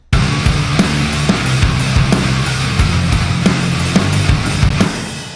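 A loud full-band rock mix, recreating a song, plays with steady pounding drums, driving bass and dense guitars filling the sound throughout.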